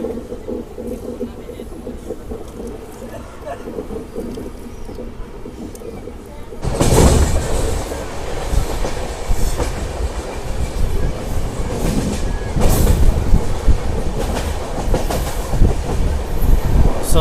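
The Bokaro Express runs through Kovvur station without stopping. A moderate rolling rumble abruptly turns into a loud, close roar with rhythmic clattering wheels that continues to the end.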